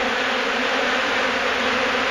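Thousands of agitated honey bees swarm around a hive removal in Florida, their buzzing a loud, dense, steady hum right up close with no pauses.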